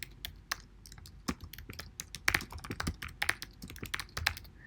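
Rapid typing on a computer keyboard, close and crisp, with uneven bursts of key clicks building in density through the middle and no talking.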